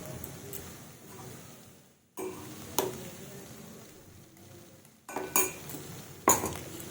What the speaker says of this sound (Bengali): বাদামের মিক্সচারটা দিয়ে এখন কিন্তু একটু ভালোভাবে নাড়িয়ে নেব।